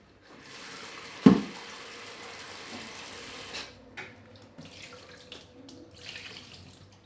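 Okra is rinsed under a running kitchen tap, a steady near splash of flowing water with a sharp knock near the start and softer shifting gushes as the pods are handled.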